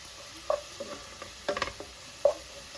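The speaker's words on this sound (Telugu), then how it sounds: "పచ్చిమిర్చి వాసన పోయేంత వరకు వేయించాలి" Green chillies stir-fried in a pan, a faint sizzle broken by a few distinct scraping clinks of the spatula against the pan, close and otherwise quiet.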